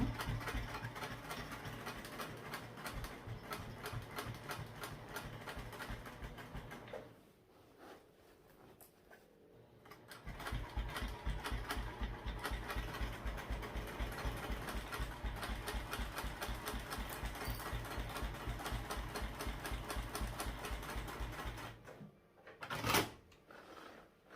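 A sewing machine stitches a backpack seam at a 3/8 inch allowance, running in a steady mechanical rattle, pausing briefly partway through, then resuming at an even pace before stopping with a final clunk.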